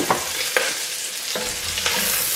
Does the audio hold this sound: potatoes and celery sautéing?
yes